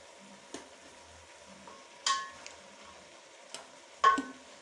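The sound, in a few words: stirring frying kienyeji chicken with dania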